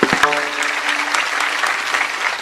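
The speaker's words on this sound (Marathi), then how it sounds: "एकदा तुम्हीच तुमच्यासाठी प्रेमानं टाळी वाजवा सर्वजण" Audience at a devotional kirtan gathering bursts into steady, dense applause that carries on for the whole stretch after a sharp opening clap, loud and close with no speech.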